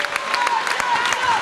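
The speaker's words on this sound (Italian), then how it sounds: "gli applausi del Palaviena" Crowd applause at the Palaviena basketball arena during a Serie A2 women's playout game, a steady wash of clapping filling the hall with brief louder bursts, commentary murmuring underneath.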